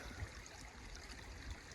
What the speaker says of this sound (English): Here at the creek, getting some water, ate a snack.